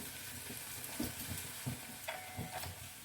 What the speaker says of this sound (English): until these bitter melons are fried and nicely change the color into brown